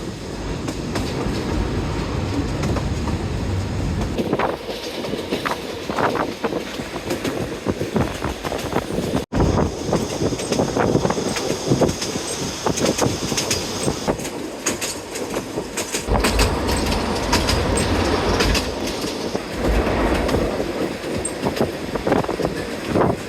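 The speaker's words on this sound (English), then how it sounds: "The train pulls into Velingrad, Bulgaria's spa capital." A narrow-gauge train in Bulgaria, arriving at Velingrad, rolls along the track with rhythmic clattering wheels and occasional squeals, loud and continuous throughout.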